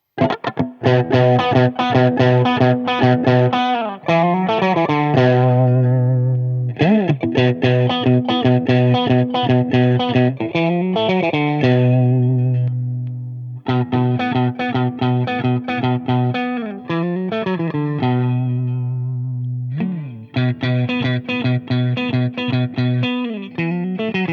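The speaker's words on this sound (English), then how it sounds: "Let's hear the pickups." Fender Ultra II Stratocaster electric guitar playing sustained distorted chords and riffs with effects through its pickups, loud and continuous, with brief pauses between phrases.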